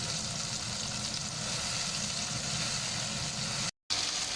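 A paste of ground onion, tomato and green chilies fries in a pan, giving a steady, dense sizzle that fills the whole stretch with only a brief dropout near the end.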